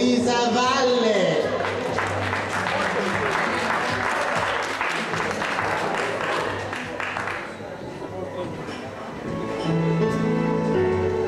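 An audience gives a big, sustained round of applause for a performer at a spring concert event, dense clapping and crowd noise that fades briefly near the end before picking up again.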